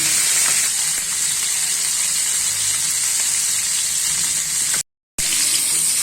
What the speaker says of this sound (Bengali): তেলটা গরম হয়ে গেছে এখন মাছটা দিয়ে দিব